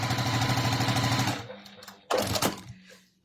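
Sewing machine stitching quilt pieces for a scrappy quilt, running steadily and loudly for over a second, stopping, then giving another short burst before falling silent.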